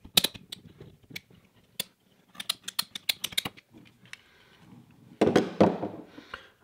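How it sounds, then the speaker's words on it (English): Plumbing pipe being cut to length with a hand cutter, a run of sharp dry clicks and snaps, a dense burst near the end, fairly quiet and close with no talk. "I'm gonna go ahead and trim off a lower section of this"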